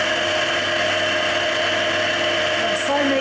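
An electric mixer runs slowly, whipping a strawberry marshmallow mixture in a large mixing bowl, giving off a steady close motor hum with a constant tone throughout.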